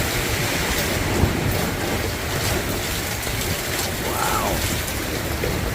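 Hurricane Milton's wind and rain in Tampa Bay, a dense steady roar of gusting wind and pouring rain throughout, with a brief exclamation from a voice.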